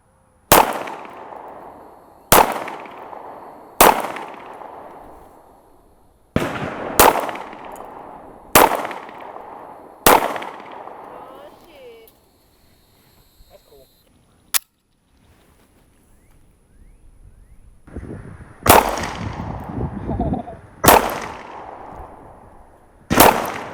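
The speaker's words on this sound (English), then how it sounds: "We'll go out and do some shooting, kind of see how they shoot, how we shoot" Pistol shots from a Sig Sauer P365 and a Springfield Hellcat at an outdoor range, loud sharp reports fired in a steady string, a quiet gap, then a few more shots, each ringing briefly.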